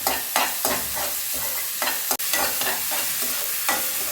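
Onion, ginger, garlic and curry leaves sizzle in a hot pan while a spoon stirs them in repeated scraping strokes, a close, steady frying hiss under the stirring.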